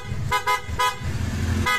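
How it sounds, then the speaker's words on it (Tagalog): A car horn, triggered by remote, honks in four short loud blasts at uneven intervals, close by, over a low idling engine rumble. "Ginawa natin, i-remote lang natin yung busina."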